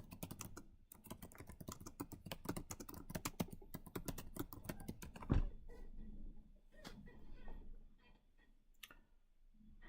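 Rapid clattering keystrokes on a computer keyboard in fast bursts, close and crisp, with a heavier thump midway and then sparser, slower taps toward the end.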